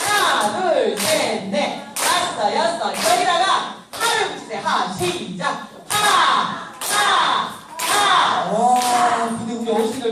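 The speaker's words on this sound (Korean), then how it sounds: "박수 너무 잘 치셨어요" Elderly women in a Korean dementia-prevention laughter coaching class clap their hands in bursts and rhythmic rounds under cheerful shouting and talk, loud and close throughout.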